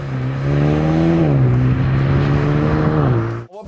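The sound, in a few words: Mercedes CLA 35 AMG car driving on a track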